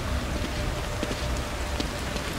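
Steady rain falls in the horror game The Evil Within, a dense, even hiss of drops pattering on the ground and walls with no voices, filling the whole stretch at a constant moderate level.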